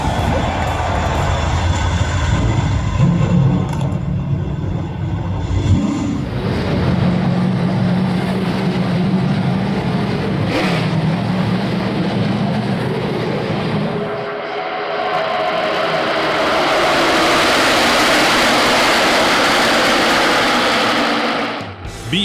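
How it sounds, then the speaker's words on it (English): A field of stock cars fires up and circles at Daytona International Speedway for the Beef It's What's for Dinner 300, a loud, sustained roar that shifts pitch as the engines pass and swell, with a crowd faintly audible beneath. "drivers, start your engines"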